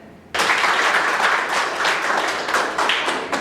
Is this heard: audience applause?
yes